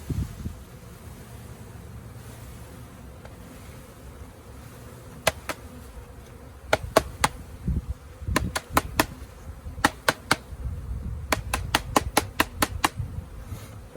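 Thousands of honey bees from a package hum steadily while being installed into an Apimaye hive outdoors, a close continuous buzz with repeated sharp knocks and taps throughout.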